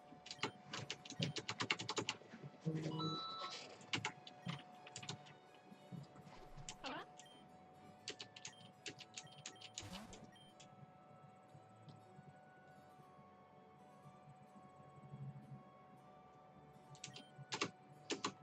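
Computer keyboard keys clatter in quick bursts of clicks, close by, with quieter gaps between flurries of typing.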